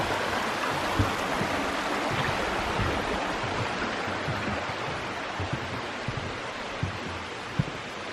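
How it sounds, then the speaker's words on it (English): Mosquito Creek flowing beside a backpacking trail at Pictured Rocks, a continuous broadband rush of running water with a few soft thumps of footsteps, steady and moderately close. "Crossing over Mosquito Creek right here."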